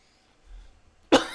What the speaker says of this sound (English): There goes the cough again.